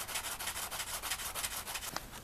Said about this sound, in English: I'm just going to take my sanding block and I'm going to smooth that down a little bit.